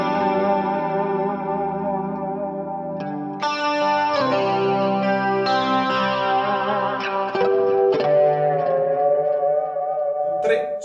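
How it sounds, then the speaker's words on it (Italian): Clean electric guitar played through a Kemper amp running a Bogner profile with reverb, sustained chords and arpeggiated notes ringing out with a wide, shimmering ambience and a steady level throughout, with no voice. "Il primo innanzitutto è un riverbero che possa permettere al suono di prendere una sua dimensione all'interno di ciò che si suona."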